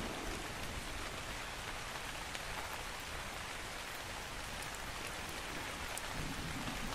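Steady rain pours down in the desert setting of the video game ARK: Scorched Earth, a dense, even hiss that continues without a break and without any voices.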